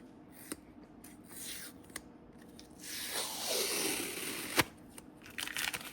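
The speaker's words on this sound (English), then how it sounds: "Pull off our blue tape." Blue tape peeled away from a sublimation and laser-cut MDF or acrylic badge piece, a rising crinkly tearing rasp in the middle among scattered soft clicks, handling taps and one sharp tap, fairly quiet and close.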